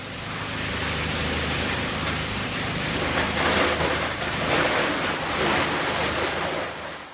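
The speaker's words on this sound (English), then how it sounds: "Here, small containers in cardboard boxes are shredded." A plastic shredder at a recycling plant chews through small containers, making a loud, continuous broadband roar that holds steady throughout with no pauses.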